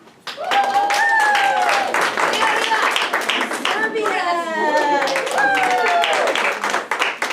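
An audience at a school reclassification ceremony cheers and claps continuously, with whoops and shouting voices over steady applause, while an announcer calls out a country's name.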